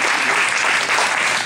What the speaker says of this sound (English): Everybody give a round of applause for Holly.